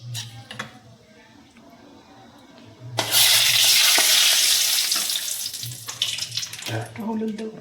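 Spice paste with red chilli powder and turmeric drops into hot oil in a kadai for boal fish curry, bursting into a loud, hissing sizzle that slowly eases, with faint voices around it.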